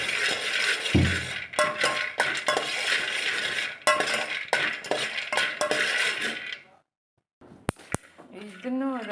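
Almonds being stirred as they lightly fry in a pan for healthy laddu, a run of close metallic scrapes and clinks from a spoon against the pan, pausing briefly before a few sharp taps and some faint talk.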